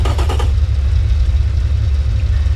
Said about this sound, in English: So let's fire this beast up.